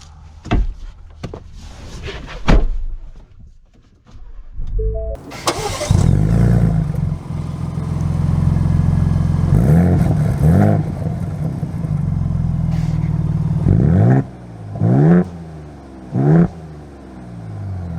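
A 2024 Ford Bronco Raptor starts up with a loud engine roar after a few door and cabin clunks, then settles into a steady, rumbling idle with a couple of throttle blips near the end.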